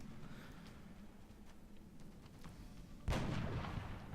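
Gunfire in the XCOM Long War strategy game, with a low rumbling bed of shots that ends in one louder, sharper burst near the end.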